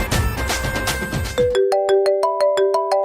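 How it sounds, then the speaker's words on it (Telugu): A mobile phone rings for an incoming call, its bright repeating electronic melody starting abruptly after a burst of noisy chatter and carrying on loud and clear. "కుమార్ గారికి ఏదో ఫోన్ వస్తుంది."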